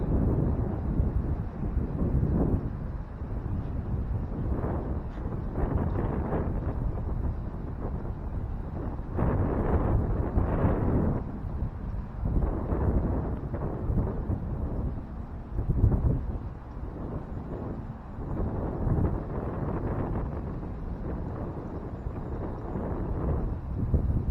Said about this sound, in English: Got the wind in my face, so depends on how much the wind catches it.